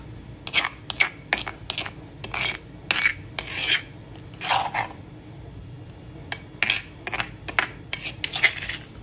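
A metal spoon mashing roasted eggplant for baingan chutney, a series of close, bright scraping clinks against the bowl in uneven bursts with brief quiet gaps.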